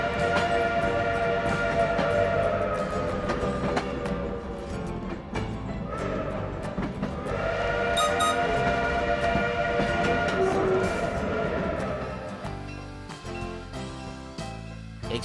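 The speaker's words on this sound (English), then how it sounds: "Listen to the sound of the whistle and feel the thud of the wheels on the rails." A steam locomotive's whistle sounds over the rumbling clatter of wheels on rails, with bursts of chuffing and hissing, fairly distant and continuous, at a transportation museum.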